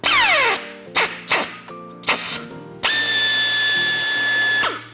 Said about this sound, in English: threading this riv nut on to the gun, putting it into place here, keeping that downward pressure